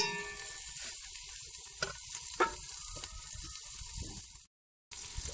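Steady sizzling of green chilies frying in hot oil for a tempering, with occasional stirring clinks, close and continuous before a brief cut to silence.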